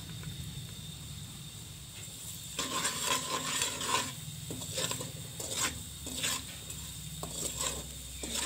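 Spoon stirring chilli and spices in a hot pan, repeated scraping and rubbing strokes in uneven bursts over a low steady background hiss, fairly close and moderate in level.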